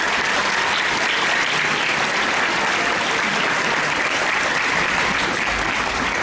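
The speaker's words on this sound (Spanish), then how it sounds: "Un aplauso, por favor" Audience applause at a formal public event in Mexico City, a sustained, dense crowd clapping that stays steady and full throughout, fairly close, with no voices.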